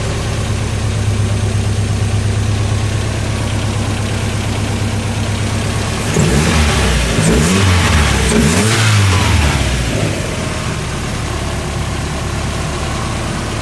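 A turbocharged Mazda MX-5 engine running with an ME221 engine management system fitted: a loud steady idle drone, then a few seconds of rising and falling revs before it settles back to idle.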